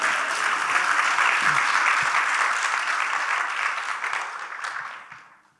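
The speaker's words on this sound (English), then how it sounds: "I'm going to take a breath, so you can give them another warm round of applause." A large event audience gives a warm, sustained round of applause, dense and steady, then tapering off and fading out near the end.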